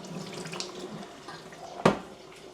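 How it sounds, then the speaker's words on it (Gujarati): Cooking water drains off boiled chickpeas, making a short, close, steady watery pour with one sharp splash near the end. "ચણાનું બધું પાણી કાઢી નાખ્યું."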